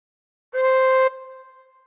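A single sustained, clear tin whistle note, all six holes covered and blown gently, sounds after a brief silence, holding steadily for about half a second before fading into a softer ringing tail.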